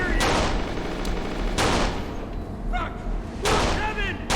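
Gunfire in the video game Kane and Lynch 2: Dog Days, with loud sharp bursts at the start and again near the end, punctuating a dense, noisy battle din that stays steady throughout.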